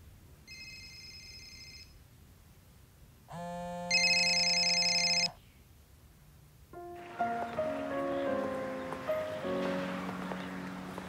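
An electronic telephone ringtone in a home scene from a Russian melodrama: two short tonal rings followed by a brighter, louder ring, then a melodic phone tune continues, close and clear with no talking.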